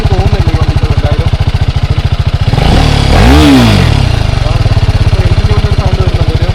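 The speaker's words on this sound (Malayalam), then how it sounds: "എഞ്ചിൻ്റെ ഒരു സൗണ്ട് വരുന്നുണ്ട്, ഒരു അതുപോലെ ബുള്ളറ്റിൻ്റെ സൗണ്ട് പോലെ വരുന്നുണ്ട്." A BMW G310GS motorcycle runs close by, its single-cylinder exhaust thumping in a steady rapid idle pulse, with a brief throttle rev swelling and falling midway before settling back to idle.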